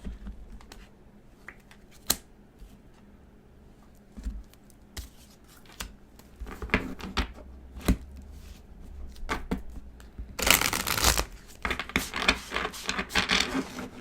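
Tarot cards being handled and shuffled: scattered sharp taps and flicks at first, then a dense rustling, riffling burst near the end, close and without speech.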